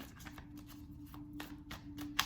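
Soft, papery riffling of a Moonology oracle card deck being shuffled by hand, a steady run of light close-up flicks and slides with a low background hum and no talking.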